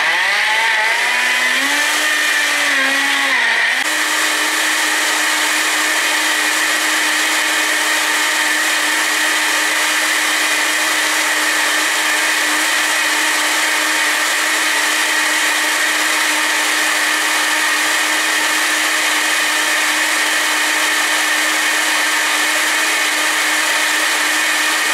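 A kitchen blender grinds juice ingredients until smooth, the motor a loud, steady whir that settles after a brief shift in pitch near the start and runs on unbroken, with no talking.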